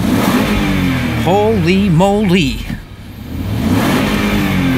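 A 2006 Range Rover Sport engine, 120,340 on it, revved loudly in a few rising and falling bursts, then a brief dip before the steady engine drone returns, close by with a voice exclaiming over it.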